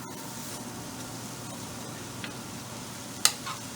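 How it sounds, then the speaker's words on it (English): Fresh oregano sizzles softly in a hot pan with a faint, continuous hiss and crackle, broken near the end by a single sharp clink, with no talking. "as you can hear, it's sizzling"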